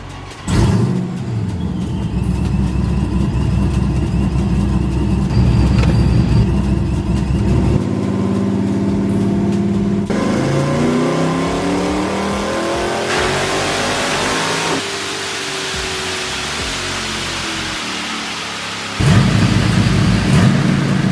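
A car engine roars on a dyno during a tuning run, a loud sustained rev climbing through the gears with pitch rising in sweeps, a brief drop, then surging again, close and continuous.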